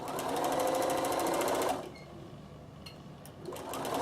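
Bernina L460 overlocker running fast while serging the edge of a towel: a loud, dense, steady motor whir that stops abruptly partway, leaving quiet handling noises before the machine starts up again.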